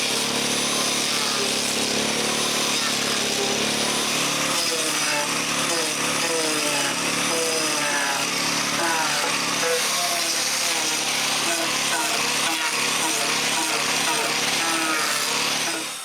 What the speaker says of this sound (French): j'ai un peu enlevé du cotis avec le scie va-et-vient